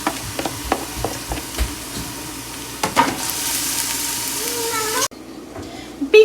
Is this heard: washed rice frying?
yes